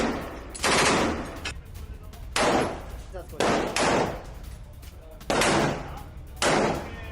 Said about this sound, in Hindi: हमास के ठिकानों पर आईडीएफ कर रही है फायरिंग।